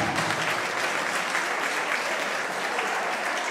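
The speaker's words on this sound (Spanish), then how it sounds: "Que se repita el aplauso" A concert crowd in Moniquirá, Boyacá, Colombia applauds continuously, a dense, even wash of clapping hands that holds steady from start to finish.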